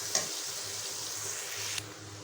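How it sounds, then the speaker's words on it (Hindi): Onions frying in oil in a pan for chicken karahi, a soft, even sizzle held close throughout, with a couple of light knocks of stirring along the way. "प्याज हमारा फ्राई हो रहा है, हमने इसको बस इतना ही ऑयल में फ्राई करना है।"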